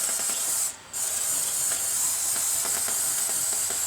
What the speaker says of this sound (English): this can doesn't spray as well as the other one